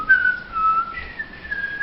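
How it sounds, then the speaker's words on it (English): A person whistles the Happy Birthday tune alone, a clear melodic phrase of sliding, sustained notes with no talking. "I whistled you happy birthday"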